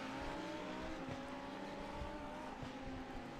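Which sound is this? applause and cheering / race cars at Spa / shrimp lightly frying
race cars at Spa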